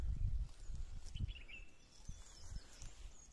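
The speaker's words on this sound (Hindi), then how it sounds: "आपको ये जो चिड़ियों की चहचहाट है उसको सुनिए" Birds chirp faintly in a quiet mountain village in Uttarakhand, a few thin high calls scattered over low rustling and soft thuds close by.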